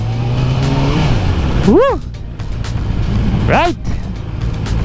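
A Bristol Kove 450RR motorcycle's exhaust drones loudly while it accelerates on a ride, with a rising shift in pitch early on and a rider's voice breaking in twice over the engine.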